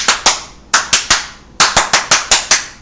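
A crowd claps in unison in sharp, rhythmic bursts, grouped beats repeating in a chant-like pattern, loud and close with nothing else heard.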